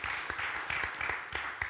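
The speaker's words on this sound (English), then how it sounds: "Give Chrissy a round of applause again" An audience at a live podcast recording in Akron, Ohio claps, a short burst of moderately loud applause with distinct individual claps standing out.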